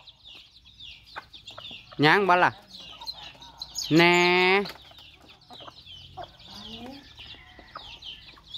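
Chickens cluck and squawk in a farmyard setting, with two loud, harsh bursts standing out over a background of fainter bird calls, while people talk nearby.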